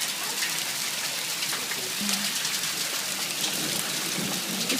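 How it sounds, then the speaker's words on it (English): Hail falls during a March storm as a steady, dense hiss and patter of ice striking surfaces, continuous throughout with a faint low rumble beneath. "Some hail just hit Mama Sisa"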